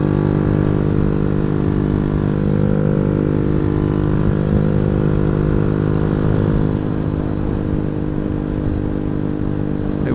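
A Boom Vader 125 motorcycle rumbles along at steady cruising speed with two riders aboard, a loud, close, continuous engine drone with wind noise and no clear gear changes.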